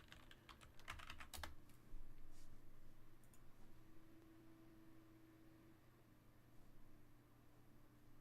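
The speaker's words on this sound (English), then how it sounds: "can hear me typing." Close keystrokes on a computer keyboard, clattering in quick bursts early on and then tapping more sparsely over a steady background hum, with no talking.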